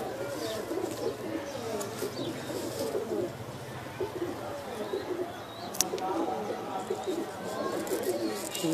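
Pigeons coo softly and repeatedly in a close, busy background beneath someone talking steadily, with occasional chirps and wing or handling sounds mixed in.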